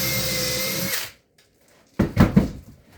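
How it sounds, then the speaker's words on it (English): A power drill whirs steadily for about a second, then stops; after a short silence, a few close handling knocks and thuds follow. "drill a little pilot hole"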